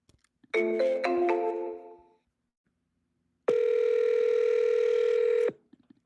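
A phone call forwarded to voicemail plays a short burst of chiming tones, then a pause, then one long steady beep lasting about two seconds, clear and alone.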